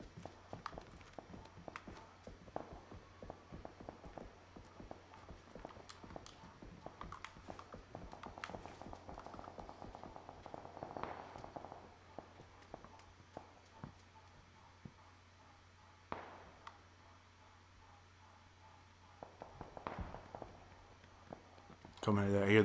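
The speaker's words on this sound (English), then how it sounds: "I hear the footsteps." Footsteps of enemies approaching in a multiplayer shooter game, faint rapid thuds in irregular runs under quiet ambience, with a few sharper knocks and a louder burst at the end.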